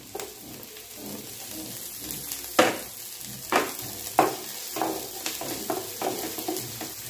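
Onion, crushed ginger-garlic and green chili fry in a pan with a steady sizzle, broken by repeated scraping stirs and clinks of a spoon, close and even throughout.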